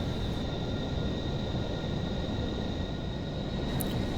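Boeing 747-400 jet climbing in the Aerofly FS4 flight simulator: a steady, continuous engine roar and broadband rush with a faint high whine, constant in level throughout with no pauses.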